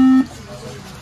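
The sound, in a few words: Mac computer beeping at power-on due to RAM issue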